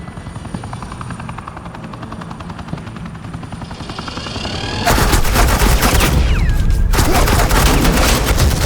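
Dense automatic gunfire laying down suppressing fire in Batman Telltale: The Enemy Within, erupting loud and continuous after a low helicopter rotor drone, with a sweeping whistle partway through.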